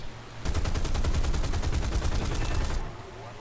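A Spitfire's aircraft machine guns firing in War Thunder: a loud, rapid burst of evenly spaced shots lasting about two seconds, close and alone, ending abruptly.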